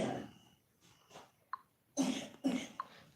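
Several sharp, breathy coughs from a cold, close by, separated by short pauses, in an otherwise quiet room.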